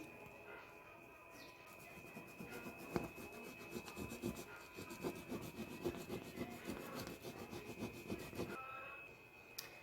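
Steady hand rubbing of a transfer sheet pressed onto chalk-painted cushion fabric, a continuous scratchy friction with small irregular strokes, close up and moderately loud, no talk.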